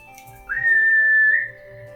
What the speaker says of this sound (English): you hear a very faint whistle